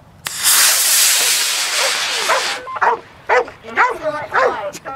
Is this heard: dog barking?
yes